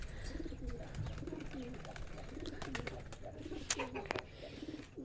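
Pigeons coo softly in a loft, repeated low rolling calls overlapping at a moderate distance, with faint background noise and a sharp click or flutter near the end.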